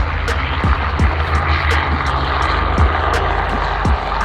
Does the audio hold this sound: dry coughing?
no